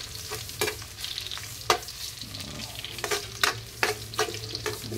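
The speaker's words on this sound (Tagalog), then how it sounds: "Gisa-gisa muna tayo ng bawang" Garlic sautéing in a pan as a sponge gourd meatball dish begins: a constant close sizzle overlaid by repeated sharp scraping and stirring strokes at an uneven rhythm, with no talk.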